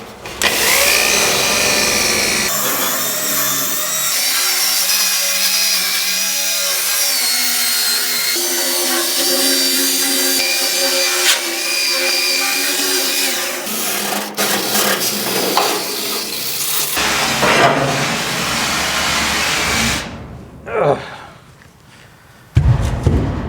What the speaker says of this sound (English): that's about all I could get with the wire wheels